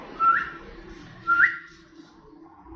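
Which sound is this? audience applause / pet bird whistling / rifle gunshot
pet bird whistling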